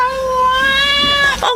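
A calico cat meows, one drawn-out, clear, close meow with a tonal, slightly rising pitch that ends in a brief higher squeak.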